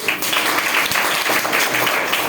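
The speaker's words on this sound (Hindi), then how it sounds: "मैं चाहता हूँ कि एक बार सभी छात्राएं छात्र मिलकर तालियां से स्वागत करेंगे।" Students at a school award ceremony clapping together in welcome, a steady dense wash of applause filling the whole stretch at an even level.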